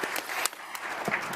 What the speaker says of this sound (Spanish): pero mientras tanto aplaudámoslos